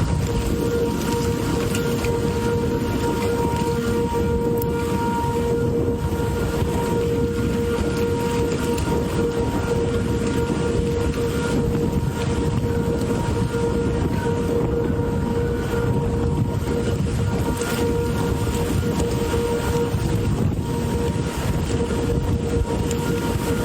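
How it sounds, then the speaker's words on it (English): A tornado's constant, heavy roar like a rushing train rumbles on without a break, with a steady wailing tone above it. "Why does it make that sound? That's that's a tornado"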